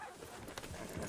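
Hooves of a horse in the Western game Red Dead Redemption 2 clop along over a dense, noisy background, with soft irregular thuds half buried in ambient sound.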